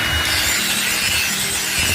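Grinding on a metal surface ahead of welding, a steady, continuous abrasive rasp held at an even, fairly loud level from start to finish, with no voices.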